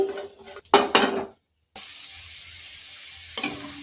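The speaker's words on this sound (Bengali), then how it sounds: "নন স্টিকের ফ্রাই প্যানে আমি হালকা করে একটু জিরে ভেজে নেব, তেল ছাড়াই।" Cumin seeds dry-roasting without oil in a non-stick frying pan: scraping stirring bursts and clinks up front, a brief silence, then a steady close, soft sizzle with one sharper scrape near the end.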